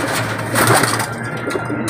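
Pigeons coo softly nearby amid rustling and background noise, a brief low murmuring with a faint knock.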